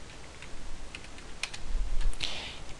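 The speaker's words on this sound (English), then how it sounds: "first of the semester and I already need to learn how to type" Keys clatter on a computer keyboard in quick, uneven bursts of clicks, close and fairly clear over a low background hum, with no one talking.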